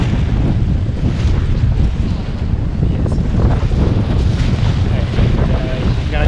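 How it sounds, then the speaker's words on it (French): Mini sailboat arriving at the finish line at sea during the Duo Concarneau 2020 race, heard as a constant loud rush of wind buffeting the microphone mixed with washing waves and hull noise, steady throughout. "On entend le bateau qui arrive sur la ligne d'arrivée"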